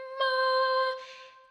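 A sustained sung note from the Odyssey vocal VST instrument holds steady, then cuts into a soft, airy breath release at its end, isolated with no other sounds.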